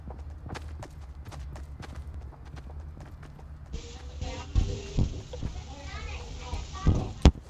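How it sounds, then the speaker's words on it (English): Multiple footsteps in Fortnite Battle Royale patter in a quick, irregular run of soft thuds under steady game ambience and a voice, with a few sharper, louder impacts toward the end. "I hear multiple footsteps"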